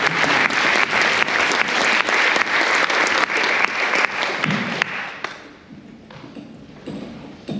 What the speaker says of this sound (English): all the musicians here, you guys deserve a round of applause because you guys are amazing